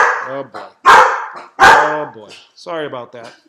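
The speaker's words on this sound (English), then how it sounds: "Occasionally you might hear some dog barking" A dog barks twice in sharp, loud bursts close by, in the middle of someone talking.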